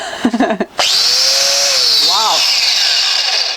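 A brief clatter, then an angle grinder spins up and holds a loud, high-pitched whine during bodywork repair on a Mercedes, with a short laughing voice briefly over it near the end.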